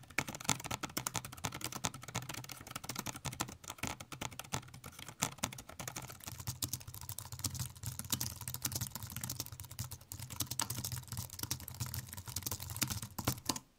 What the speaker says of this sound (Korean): 일단 한번 실제 타건음을 들어보시죠.